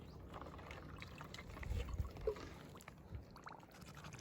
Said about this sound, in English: Set it there, fill them with water.